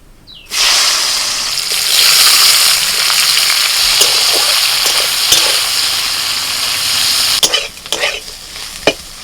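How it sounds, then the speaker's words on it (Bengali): Sliced bitter gourd and onion sizzle loudly and steadily in hot oil in a pan, with a few scraping stirs and clinks toward the end. "সব শেষে একটু করলা ভাজা করছি"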